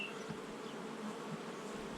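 Honey bees buzz steadily at a hive, a soft, constant hum with a few individual bees droning past close by.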